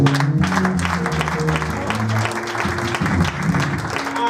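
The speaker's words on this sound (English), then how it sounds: "Look at the way they are clapping for my sister." A church congregation claps at a Sunday service, a dense, continuous round of applause that holds steady throughout, with voices murmuring underneath.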